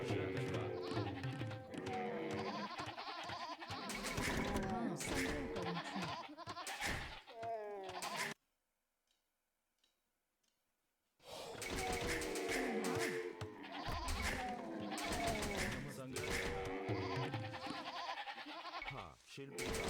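Sheep bleat in Age of Empires II amid game sounds, with someone commenting throughout; a short silent gap breaks the middle.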